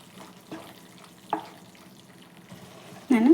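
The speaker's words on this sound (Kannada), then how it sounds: "ಇದ್ರೂ ತುಂಬ ಚೆನ್ನಾಗೇ ಫ್ರೈ ಮಾಡ್ಕೊಳ್ಳೋಣ" Masala sizzling in oil in a pan for egg curry, a soft steady fry with a few scraping stirs and a louder burst of sizzle at the end.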